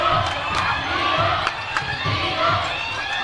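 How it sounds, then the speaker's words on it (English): Home crowd at a high school boys' basketball game cheers and shouts loudly and continuously, with a ball bouncing rhythmically on the court and sharp sneaker squeaks cutting through the roar. "And the crowd is going crazy."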